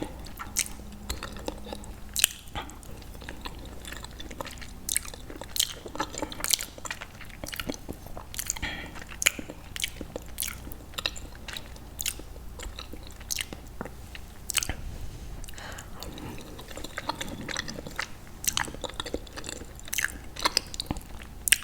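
Close-up eating of Goya Salvadorean beans with brown rice: repeated soft wet bites, chewing and squishy mouth sounds with small crunchy clicks spread evenly over a quiet background, no talking.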